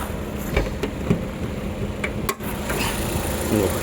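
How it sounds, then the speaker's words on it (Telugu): A car engine idles with a steady low hum close by, with scattered clicks and a person talking briefly over it. "ఇంజన్ కూడా చూడ ఎంత స్మూత్ ఉందో"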